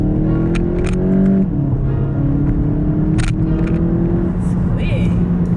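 A big-turbo Volkswagen GTI accelerates through gears with paddle shifters, a loud in-cabin engine drone rising in pitch, with a brief dip at each shift, under casual talk from people inside the car.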